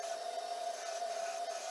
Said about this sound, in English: I'm gonna try sharpening the drill bit